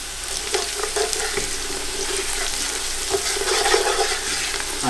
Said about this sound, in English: while we are frying the onions